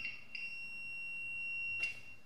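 APC Back-UPS ES700 battery backup unit giving a high, thin electronic warning beep: two short tones at the start, a long pause, then another brief beep, quiet in a still room.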